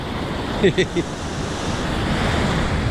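Rough surf breaks on a sandy beach with no rocks, a loud, continuous wash of waves and wind roar, with a brief burst of speech near the start.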